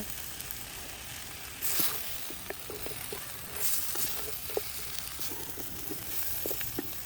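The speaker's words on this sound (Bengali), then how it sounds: "রসুনগুলো দিয়ে আবারও কিছুক্ষণ মাংস কষিয়ে নিব" Home-raised desi rooster meat with four garlic cloves sautés in a pan. It gives a continuous close sizzle broken by soft scraping stirs and a few light pops.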